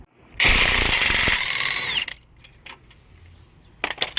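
A power tool loosens a strut nut on a Kia Soul, a loud close burst of hammering impact rattle lasting about a second and a half, followed by a few faint metallic clinks.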